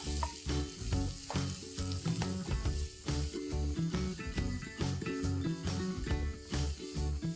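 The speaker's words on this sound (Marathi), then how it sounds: "इथे मी 2 कांदे मीडियम साइजचे बारीक चिरून घेतलेले आहेत, तेही घालूया आणि हे गुलाबी होईपर्यंत जरा परतून घेऊया।" Two finely chopped medium onions with green chillies sautéing in a pan for a Marathi radish-leaf dish, heard as a loud, steady fry that runs alongside prominent rhythmic background music for the whole stretch.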